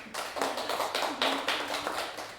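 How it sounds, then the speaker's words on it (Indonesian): Classroom clapping during a microteaching session, a short burst of hand claps from a small group, fairly close with slightly uneven rhythm and no talk over it. "Oke, tepuk tangan semuanya"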